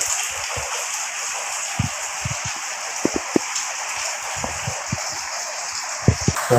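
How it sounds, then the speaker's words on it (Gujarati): Steady rain hiss fills the background, with scattered drips and soft splashes tapping irregularly throughout as rainwater leaks through a room wall indoors. "તમને આ વરસાદનો અવાજ પાછળ સંભળાતો હોય કેમ કે વરસાદ ચાલુ છે"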